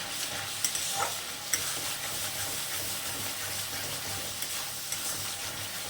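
Banana flower curry with prawns frying and being stirred in a pan, a steady close sizzle with repeated scraping strokes of a spatula and a few sharp knocks against the pan.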